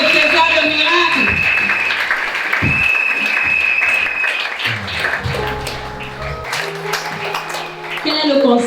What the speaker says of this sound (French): Acclame une fois de plus pour le trésor de miracle.